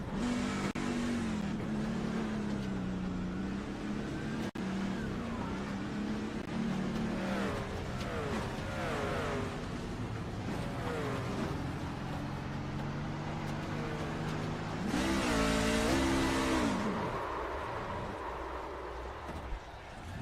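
Race car engine at high RPM heard from an inboard camera at Talladega Superspeedway, a steady loud drone with rising and falling pitch sweeps and a brief burst of harsher noise near the end.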